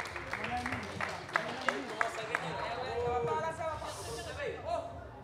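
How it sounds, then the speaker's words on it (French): Studio audience applauding a correct answer on a French political quiz show, a steady bed of clapping with a few sharp louder claps early on, crowd noise and a voice talking over it. "on les applaudit bien fort"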